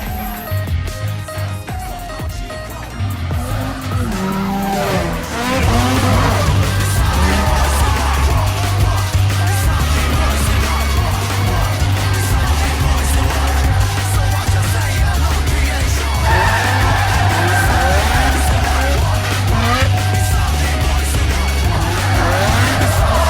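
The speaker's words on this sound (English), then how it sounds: "The movie Tokyo Drift showcases one of the coolest car cultures, that is, drifting." A car drifting as in Tokyo-style street drift culture, with steady loud engine roar and sustained tire squeal through most of the stretch, the sound intensifying after a quieter opening, with layered mechanical noise throughout.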